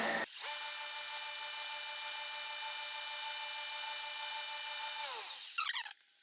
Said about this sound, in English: I want to drill a pilot hole first